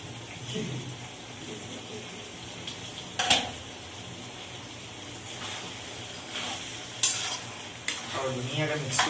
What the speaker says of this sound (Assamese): আৰু ধুনীয়াকৈ মিক্স কৰি দিছোঁ ধনিয়াটো